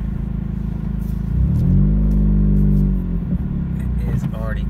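2017 Honda Civic Si running with its exhaust disconnected from the front pipe, a loud, raspy idle swelling into a rev and settling back, with a brief voice near the end.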